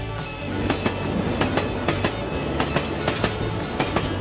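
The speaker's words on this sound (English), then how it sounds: "Here is a real video of a single track railway train crossing near Chavadipalyam." Train passing on a single-track Southern Railway line at a crossing near Chavadipalyam, steady rolling rumble with regular loud clickety-clack wheel beats over rail joints, close by and without voices.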